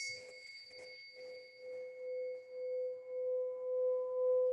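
A singing bowl rings with a steady, sustained tone and shimmering overtones, swelling and pulsing gently as it resonates alone.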